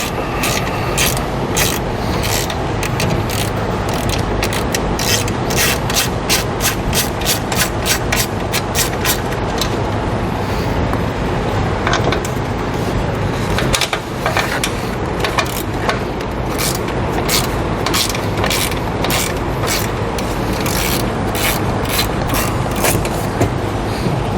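A wrench loosens a bolt on a K-Source custom extendable towing mirror bracket, making rapid, regular ratcheting clicks in bursts over a loud, constant background rumble.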